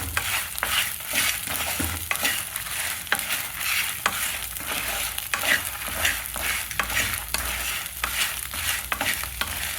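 Garlic cloves are stirred and fried in a pan, rhythmic spatula scrapes and taps repeating over a soft continuous sizzle, close and clear with no talking.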